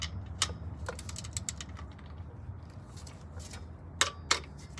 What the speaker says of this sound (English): So we got our torque wrench here, good to go, 29 foot-pounds.